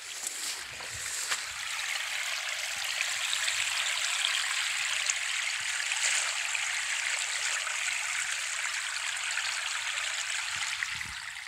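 Water flows steadily through a channel in a village field, a continuous close rushing and trickling with no talking.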